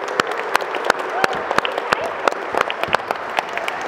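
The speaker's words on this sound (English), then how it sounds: "it would be very good of you if you can like applaud for the kids right now" An audience at a mini basketball coaching clinic applauds the kids, with sharp, uneven claps from a small group, close and steady for several seconds.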